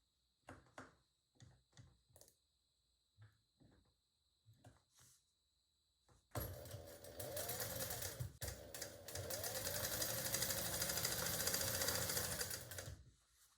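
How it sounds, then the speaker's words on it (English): Sewing machine stitching the side seam of a canvas tote bag with foam and rivets, a sustained run of rapid, steady stitching after a few short clicks and taps at the start. "we are going to sew up the side seam together"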